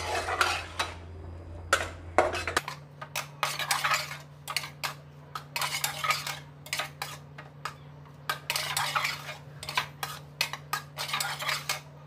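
Chicken keema being mixed with chopped green chillies, a utensil repeatedly scraping and clinking against the pan or bowl in short irregular bursts over a low steady hum.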